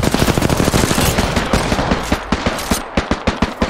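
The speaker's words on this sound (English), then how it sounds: "That's another squad shooting at us" Rapid automatic gunfire from a rival squad in a battle royale shooter game, dense bursts of shots crackling continuously at first, then thinning into separated single reports, loud and alone.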